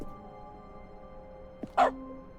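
A single dog bark rings out in dog mode of the video game The Stanley Parable Ultra Deluxe, preceded by a short yip, brief and clear over a quiet steady hum.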